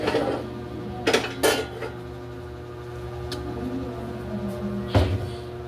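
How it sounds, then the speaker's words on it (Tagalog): A kawali, a frying pan, is lifted out and handled in a home kitchen, giving a few metallic clanks and knocks close by, spread between fainter clatter over a low background hum. "Tara natin ang ating kawali"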